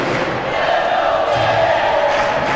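Boys' hockey teams in the stands cheering on the Seaway Valley Devils at a 2018 Canadian midget championship game, heard as a steady, dense crowd roar with shouting that fills the arena.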